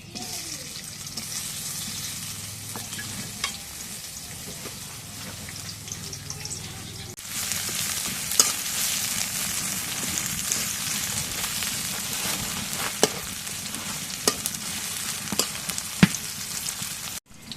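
Oil sizzles in a hot pan, first as a low background hiss under a voice, then jumping to a louder, crackling fry with scattered pops.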